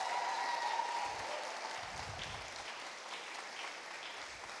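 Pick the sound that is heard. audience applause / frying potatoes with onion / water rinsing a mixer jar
audience applause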